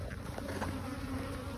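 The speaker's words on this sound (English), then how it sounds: "lots of bees" Honeybees crowd a frame during a week-three hive inspection, giving off a steady, close, dense buzzing hum with no talk over it.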